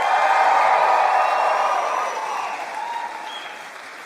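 Comedy club audience at a stand-up show bursts into loud, sustained applause with cheering and whoops, strongest at first and easing slightly toward the end.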